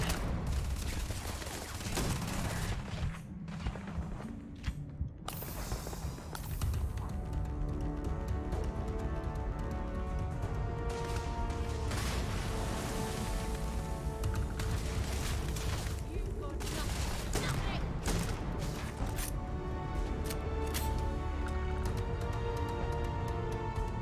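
Close-range shotgun blasts ring out in a firefight in the space game Starfield, heavy booming shots amid dense gunfire and clatter, loud throughout, with voices talking over the combat.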